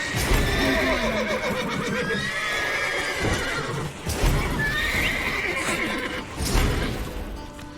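Horses whinny and neigh repeatedly in The Witcher 3, with clip-clopping hooves and bustling game ambience running steadily underneath throughout.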